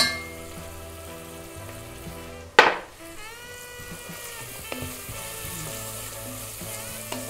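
Chopped onions hit a hot pan for Ethiopian injera fitfit with a sudden loud sizzling burst that settles into a steady, close frying hiss, with no talking.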